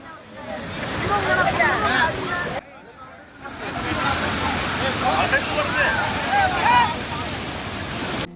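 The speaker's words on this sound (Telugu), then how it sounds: "సో కాంతన్పార వాటర్ ఫాల్స్కి వచ్చినాం" Kanthanpara waterfall in Wayanad rushes in a steady broadband roar with wind buffeting the microphone, and people talk over the water.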